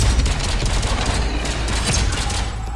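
Steady, fast gunfire in the VR game Into Black, a loud unbroken rattle of shots filling the whole stretch without any voices.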